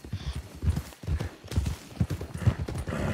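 Horse hooves clip-clop in a steady rhythm, fairly close and loud, with low rumbling and some background voices mixed in.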